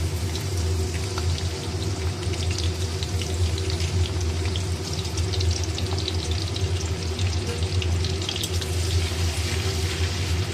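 Chopped garlic hitting hot oil, previously used for frying chicken pakoras, in a kadai: a loud, steady, close-up sizzle and hiss that holds constant throughout, with no talking.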